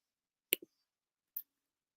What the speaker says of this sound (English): if you hear pecking in the background, that's me in the keyboard